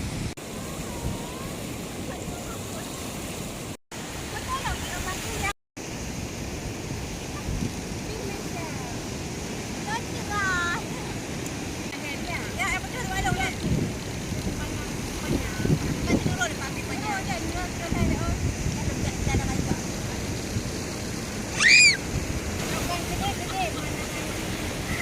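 Sea waves wash in at Momong beach in Lampuuk, Aceh, a continuous broad surf rush mixed with wind noise on the microphone, with people talking over it.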